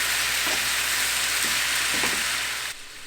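Shrimp, peppers and onions sizzling loudly in a hot pan while being stirred, a dense steady hiss with a few scraping strokes, easing off near the end.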